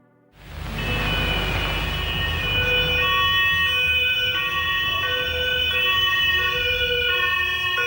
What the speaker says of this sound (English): Those sirens you just heard are from a video filmed by the KGB of Vanquish's arrest